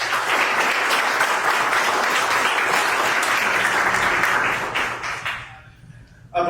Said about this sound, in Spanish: les pido por favor darles la bienvenida con un aplauso